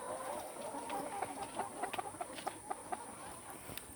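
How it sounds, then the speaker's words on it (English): Chickens cluck on a farm, a scatter of short, close calls that rise and fall against a steady background hiss, with no one talking. "And these are the chickens."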